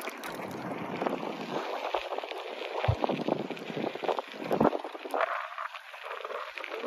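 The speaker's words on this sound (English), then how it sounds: "The wind is blowing off the lake." Wind blowing off a lake rushes steadily across the microphone, a loud, continuous buffeting roar with no voices.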